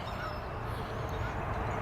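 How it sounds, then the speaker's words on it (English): A flock of geese honks outdoors, calls blending into a dense, continuous background din from a distance, with no clear single calls standing out. "Some making noise over there. That's a lot of geese."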